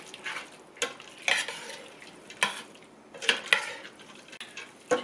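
Chili powder being stirred into fideo con carne in a pan, with repeated scraping and clinking strokes of a utensil over a soft sizzle, close and fairly quiet.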